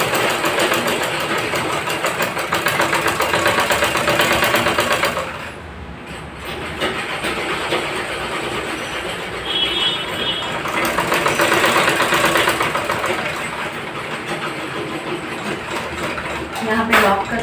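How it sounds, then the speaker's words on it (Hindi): Sewing machine stitching along the edge of a side chain on ladies' trousers, a fast continuous mechanical whirr that pauses briefly partway through and then resumes, loud and close. "इसके किनारे किनारे हम सिलाई लगा देंगे। चलिए वो लगा के दिखा रही हूँ।"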